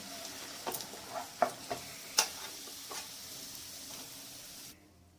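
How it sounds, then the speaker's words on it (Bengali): Pumpkin leaves dipped in besan batter fry in hot oil with a quiet, steady sizzle and scattered crackles and utensil ticks, then the sound cuts off abruptly near the end. "বাকি পাতাগুলো এভাবে বেসনে ডুবিয়ে ভেজে নেবো"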